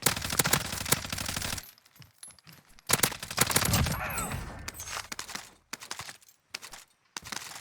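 Bursts of gunfire from the video game Warzone, loud rapid shots clustered at the start and again midway, with sparser sharp reports and quieter gaps between.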